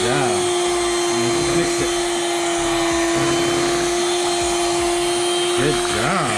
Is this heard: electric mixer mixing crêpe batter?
yes